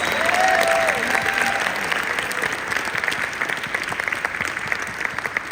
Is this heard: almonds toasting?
no